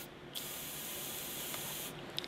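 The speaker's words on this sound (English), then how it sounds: "I'm going to use this silicone-based spray." Silicone-based lubricant sprayed from an aerosol can into the end of a model helicopter tail boom tube: one continuous close hiss lasting under two seconds, with a faint click at the end.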